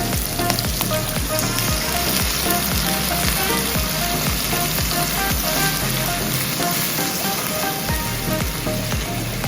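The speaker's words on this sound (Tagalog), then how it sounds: "Ilagay na natin ang gata." Bicol Express cooking in a pan with coconut milk, a loud, steady broadband sizzle running throughout with faint stirring knocks beneath, no voices.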